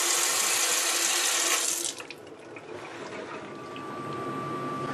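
Water runs from a kitchen sink faucet fitted with a new aerator: a loud, broad rushing stream that stops abruptly partway through, leaving a quieter trickle and faint room noise.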